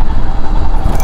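Royal Enfield Himalayan 411cc motorcycle engine while riding, a loud continuous low rumble with steady throb and wind noise, close and unbroken throughout.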